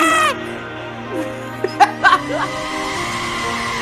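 A video game chicken lets out a few short squawking screams in quick bursts, mixed in with other game sounds and background noise.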